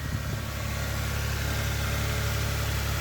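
A Toyota engine idles just after a cold start, a steady close rumble with a constant low throb and no change in revs, with no one talking.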